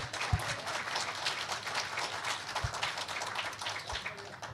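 Audience applause at a live Hindi comedy and poetry show, a steady dense wash of clapping across the whole stretch with a few sharper close claps standing out.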